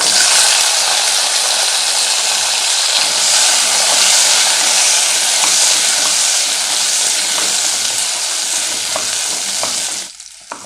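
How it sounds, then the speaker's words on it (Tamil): Onions sauté loudly in a hot pan for kara chutney, a steady, close, dense sizzle and frying hiss with faint stirring scrapes that carries on for about ten seconds before easing off. "வெங்காயத்தை போட்டு வதக்கிக்கலாம்"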